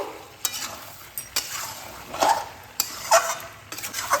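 Fried shrimp being stirred into jackfruit curry in a pan, with a spoon scraping and clacking in irregular strokes over a soft continuous sizzle, close by.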